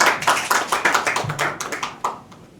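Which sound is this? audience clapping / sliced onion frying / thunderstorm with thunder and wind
audience clapping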